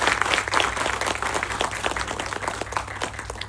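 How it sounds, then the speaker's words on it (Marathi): An audience at a teachers' conference applauds, a dense and sustained patter of many hands clapping at moderate distance, fairly even throughout. "त्यांच्यासाठी आपण विशेष टाळ्या वाजवून पहिला त्यांचं कौतुक करूया"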